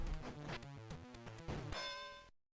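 Electronic chiptune jingle in a Virtual Boy boxing video game at the end of a round, with stepping beeping tones that settle into a bright ringing bell-like tone before cutting off.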